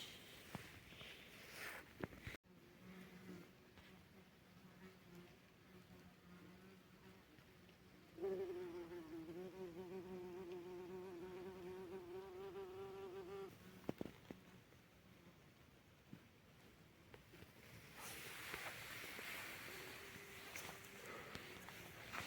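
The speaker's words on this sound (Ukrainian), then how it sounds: "Бачите, вулик у землі був." Insects buzz from a disturbed in-ground hive on a forest floor in the Kyiv region, a steady droning hum that swells in the middle section and lingers faintly near the recording, with rustling and footsteps around it.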